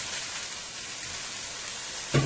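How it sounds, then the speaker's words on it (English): Curry masala sizzles in hot oil in a pan, a steady close crackling hiss with one brief louder clatter near the end and no talk. "My curry mixture is frying up nicely there."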